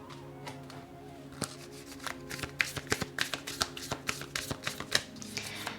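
A deck of cards shuffled during a card reading, with a quick run of crisp riffling clicks and flutters that grows denser and louder toward the end, heard close with no talking.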